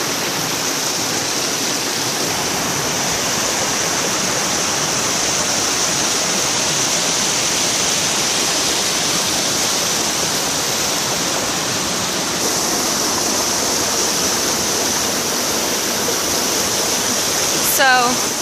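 A river waterfall roars as a steady, loud, broadband rush of falling water, continuous and unchanging for the whole stretch, with a brief faint chirp near the end.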